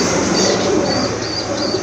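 An Arabian coca pigeon coos with a thin, high-pitched call, close by and heard over a loud, constant background hiss.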